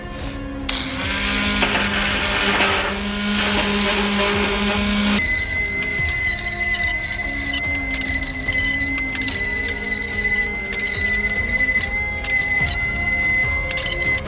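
A metal Captain America shield being sanded down gives a loud, continuous grinding and whirring that shifts in pitch partway through, close and harsh.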